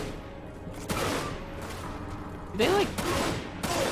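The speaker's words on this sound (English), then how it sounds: "Ah, the gun shooting." Several bursts of rapid gunfire crackle in Final Fantasy VII: Dirge of Cerberus, spaced a second or two apart, while a player talks over the game.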